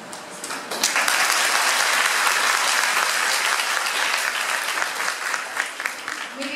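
An auditorium audience at a Premchand Jayanti school event breaks into loud sustained applause, dense clapping that swells quickly and holds steady for several seconds before easing slightly.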